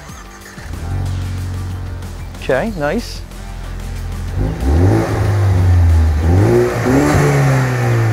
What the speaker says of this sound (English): Why don't you fire this thing up and let's hear how that Flowmaster sounds.